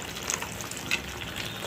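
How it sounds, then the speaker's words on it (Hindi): Water is poured into a pan of sizzling masala for restaurant-style matar mushroom curry, making a steady hiss and splash with a faint bubbling crackle that runs throughout. "देखिए हमने इसमें पानी डाल दिया है"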